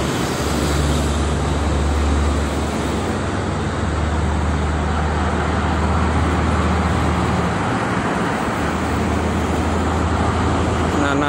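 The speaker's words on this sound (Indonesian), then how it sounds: "Ramai pagi-pagi sama kendaraan truk besar." Steady roadway roar of heavy traffic dominated by large trucks on the Cikampek toll road in the morning, a continuous loud rumble with deep low engine drone throughout and no speech.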